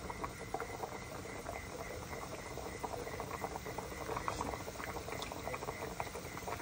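Fish soup simmering in a covered pot, a steady low bubbling with soft patter and occasional small pops, constant and close throughout with no voices.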